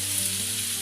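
Pieces of chicken malai boti fry in a pan with a steady, bright sizzle that holds at an even level throughout the brief moment, heard alone without talking.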